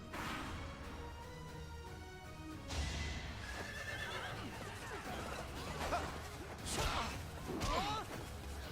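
A horse whinnies repeatedly in Fire Emblem: Three Houses, shrill neighs rising over clattering hooves, battle whooshes and background game music.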